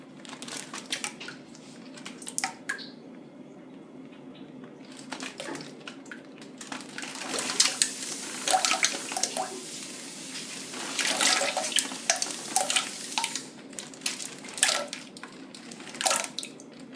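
Beans and liquid are poured into a school toilet, producing watery splashing and sloshing with scattered drips and wet pours, fairly quiet at first and then busier and louder in uneven bursts.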